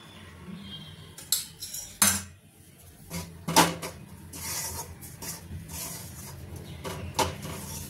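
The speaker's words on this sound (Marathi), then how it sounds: "आता वरून आपण थोडंसं तूप टाकून गव्हाचं पीठ चांगलं भाजून घेऊयात" Wheat flour roasting in ghee in a kadhai, a metal spatula repeatedly scraping and clinking against the pan in irregular strokes over a faint low sizzle, close and without talk.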